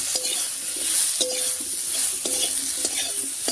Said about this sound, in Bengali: এবারে খুব ভালো করে ভেজে নেবো উচ্ছেটাকে।